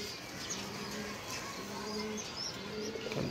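Domestic pigeons coo in repeated low, soft phrases at a steady rhythm, fairly close, with a few faint chirps over quiet background noise and no talk.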